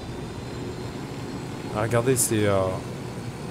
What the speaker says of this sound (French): décolle l'hélico, décolle là.